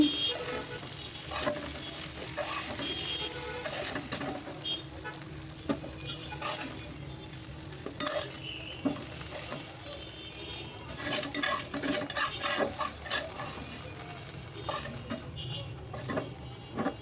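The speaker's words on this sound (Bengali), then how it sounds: "এখন আলুগুলো আমি একটু সুন্দর করে ভেজে নিব" Potatoes fry in a pan with no spices added, sizzling steadily as a utensil stirs them and scrapes against the metal in irregular knocks and clinks, fairly close and moderately quiet, with no talking.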